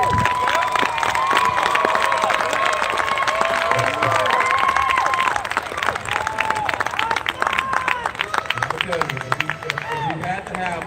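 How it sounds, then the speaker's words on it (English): A loud crowd in a school gym applauds and cheers for graduating seniors at a 2021 socially distanced pep rally, with sustained clapping, shouts and whoops and a busy babble of voices throughout. "let's give a big round of applause for our graduates"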